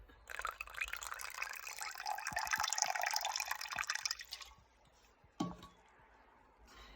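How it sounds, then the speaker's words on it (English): Apple cider vinegar, about 45 ml, poured into five egg whites for grain-free bread rolls: a quiet liquid splashing stream lasting roughly four seconds, followed by a single small tap. "We're adding 45 ml of apple cider vinegar."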